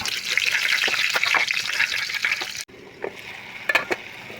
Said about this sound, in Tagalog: Butngan og tubig gamay.